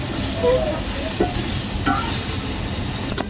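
Vegetables fry in a pot over a clay stove, a steady sizzle and hiss with a few light clinks and stirring knocks scattered through.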